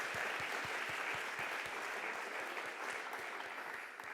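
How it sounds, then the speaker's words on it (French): Steady audience applause fills the room at the closing session of a national waste conference, a dense wash of many hands clapping at even strength throughout without talk. "On peut l'applaudir d'ailleurs"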